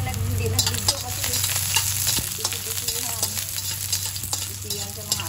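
Oil sizzling and frying steadily in a pan while cooking Filipino ginataang langka (jackfruit in coconut milk), a continuous close crackle with small pops and clatters of utensils throughout, no talking.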